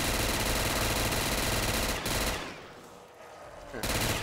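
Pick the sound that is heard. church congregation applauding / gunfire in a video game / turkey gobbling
gunfire in a video game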